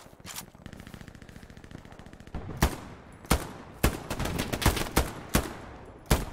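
Machine gun covering fire in the shooter game Hell Let Loose, starting with a rapid sustained burst and then giving way to a string of loud, sharp single reports spaced irregularly about half a second to a second apart.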